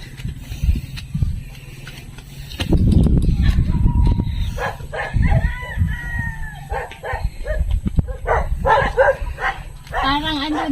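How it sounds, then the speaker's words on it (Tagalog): Barking from an unleashed dog on a walk to a nature park, heard in short bursts amid a rooster's crowing and outdoor ambience, while people chat nearby. "hindi nakataling aso"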